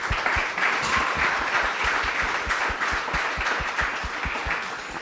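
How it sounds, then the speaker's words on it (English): Audience applause at a business talk event, a steady dense wash of many hands clapping that holds at full strength for the whole stretch with no voices on top. "I'm going to ask for a round of applause."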